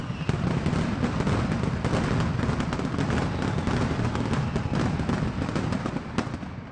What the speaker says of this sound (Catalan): És la sonora traca nocturna i focs artificials amb què les Roquetes ha posat el punt final a la Festa Major de Santa Eulàlia